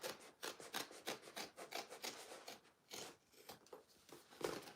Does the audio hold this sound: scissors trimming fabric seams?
yes